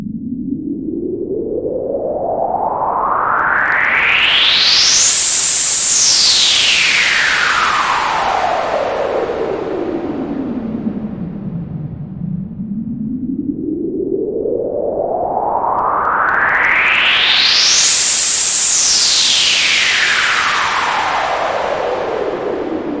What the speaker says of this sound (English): Adding reverb like that gives your riser more space